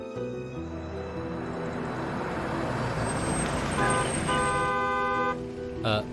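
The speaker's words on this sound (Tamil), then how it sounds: "அண்ணே, கார் சத்தம் கேக்குது." A car arrives with steady engine and road noise and a few tooting horn blasts that rise near the end, under a busy, continuous mix of sound.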